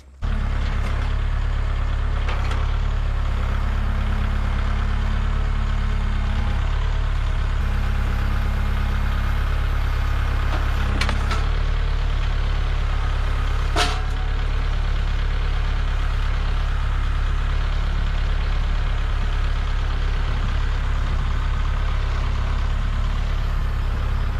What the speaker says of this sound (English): So I'm thinking that if I broke it with the tractor, maybe I can fix it with the tractor.